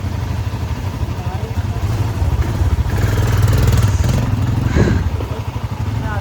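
A Royal Enfield Himalayan 450 motorcycle idles close by on a snowy winter road in Manali, a steady, loud, low thrumming engine rumble that swells slightly partway through.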